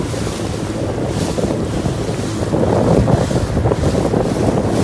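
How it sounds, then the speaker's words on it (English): Strong gusts of wind buffet the microphone continuously, roaring over choppy water of a Scottish loch slapping nearby, with no voices. "surprisingly a little bit windy, which is kicking up the loch a bit"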